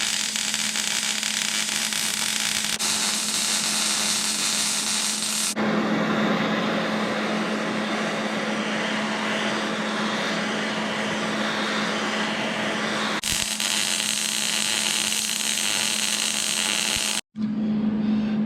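A MAP gas torch roars as it heats the welded cast section of a Dana 60 axle tube, a loud steady hiss that cuts in and out in long blasts with brief quiet gaps between.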